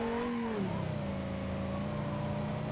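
A V10 car engine in a video game revs and then drops to a steady droning pitch, loud and continuous with a smooth, buzzy tone.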